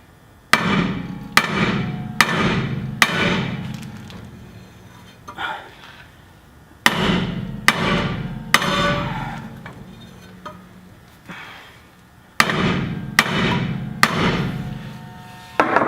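Hammer striking the side of a universal joint to loosen its caps, sharp metallic blows in quick clusters of three or four, repeated several times with short gaps between groups.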